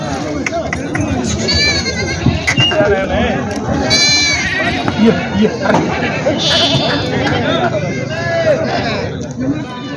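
Goats bleating repeatedly at a busy goat market in Vasmat, with loud nearby cries rising over a constant babble of crowd voices and people talking.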